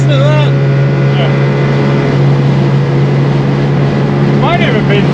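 The engine of a Ford XC Falcon panel van runs at a steady idle, a loud, constant low hum with a strong drone, under people talking at the start and end.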